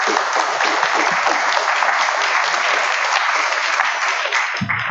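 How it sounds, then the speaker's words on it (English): Audience applause at a college-hosted event, steady dense clapping filling the room for several seconds before tapering off abruptly at the end. "So we can applaud, I think."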